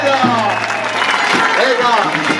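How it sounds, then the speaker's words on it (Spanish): Crowd applause for a mountain club at a rally for decent train service, a broad wash of clapping nearly buried beneath loud shouting and calling voices. "Un fuerte aplauso para el Club de Montaña."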